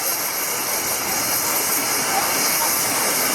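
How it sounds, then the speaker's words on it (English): A 1917 Garrett Showman's steam engine gives off a continuous, loud, broad hiss of steam that holds steady throughout. "Now we've got one of our Showman's engines coming in."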